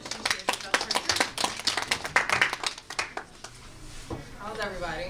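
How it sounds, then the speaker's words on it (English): An audience claps for a fashion designer being introduced, a short burst of distinct hand claps that thins out and fades, followed by a voice speaking. "let's give her a round of applause as she shares about her journey"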